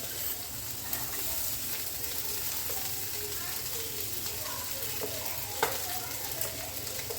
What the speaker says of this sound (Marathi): आता साबुदाणा टाकूया त्यात.